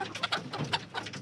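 A Cream Legbar hen gives a run of short, close clucks and soft bursts in an uneven rhythm, with several distinct calls over a quiet background and no voices.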